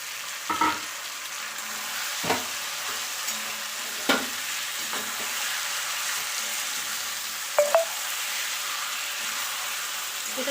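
Chicken pieces stir-fry in a spice masala with turmeric, a soft continuous sizzle broken by several sharp spoon scrapes and stirs against the pan, close and without voices.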